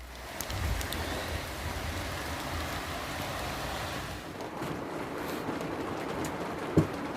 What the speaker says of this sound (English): you might be able to hear it chucking it down with rain outside